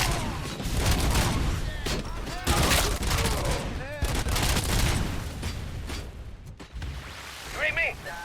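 A grenade launcher fires amid heavy combat in the Robocop: Rogue City video game, with dense booming blasts and gunfire over a rumbling background.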